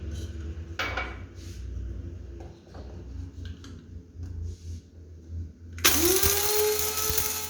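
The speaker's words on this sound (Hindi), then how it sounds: "ये वाले साबुत मसाले मैं पीस लेती हूँ।" Quiet kitchen clatter gives way to a loud, high-pitched electric spice grinder whirring up suddenly and running steadily, grinding whole nutmeg, mace, green cardamom and black cardamom seeds.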